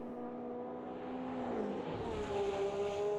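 Race cars, among them a Porsche, roar past on the track at the Bathurst 12 Hour, a steady engine drone with pitch sliding as the cars pass, fairly loud and close with no talk.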